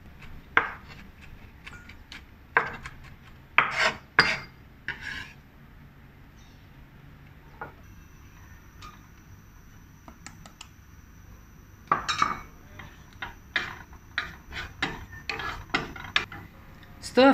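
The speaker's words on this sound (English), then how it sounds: "Bashed and coarsely chop a few cloves of garlic" A few garlic cloves bashed and coarsely chopped on a wooden board: sharp irregular knocks and clusters of quick chops separated by quiet pauses, close and distinct, with faint clatter of utensils.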